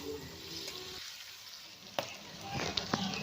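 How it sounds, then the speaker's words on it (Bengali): Sliced onion and torn green chilies fry in hot oil in a pan, making a steady close sizzle with a few sharp clicks as the mix is stirred. "এখানে আমি পেঁয়াজ কাঁচা লঙ্কা লাল লাল করে ভেজে নেব।"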